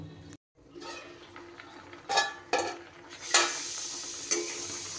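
Taro boiling covered in a kadai with lemon juice gives a steady low simmering hiss, broken by several louder clattering bursts of metal and stirring, close and fairly loud.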